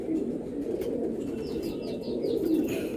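Golden eye pigeons coo in a soft, continuous low murmur, several birds overlapping steadily, with a few faint higher chirps scattered above.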